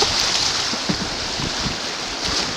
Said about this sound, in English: Here we're going through a rapid.